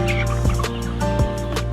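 Chickens call out close by, a few short gobbling, clucking bursts over a steady farmyard hum.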